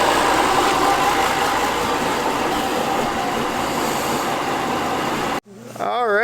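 A high-mileage Volkswagen Touareg V10 TDI sits idling with a loud, steady diesel rumble, broken off near the end by a brief voice.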